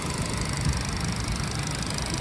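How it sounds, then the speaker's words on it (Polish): Hyundai car engine idling quietly and evenly at close range, a steady hum with faint rapid ticking from the fuel injectors and no talking. "Silnik pracuje cicho, równo. Charakterystyczne cykanie to jest właśnie podawanie paliwa przez trysk i jego praca."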